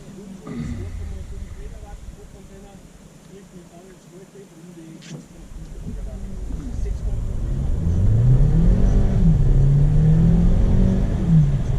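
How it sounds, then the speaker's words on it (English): A 2020 Kia Sportage pulls away at full throttle, heard from inside the cabin: a low engine drone swells and climbs steadily in pitch over the last few seconds, with a voice speaking over it. "Now am I going to give a full throttle until 60 kilometers per hour, so you can see acceleration of the car."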